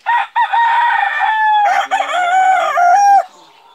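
Sweater gamefowl rooster crowing loudly and close, two drawn-out cock-a-doodle-doo calls in quick succession, the second wavering before it stops abruptly.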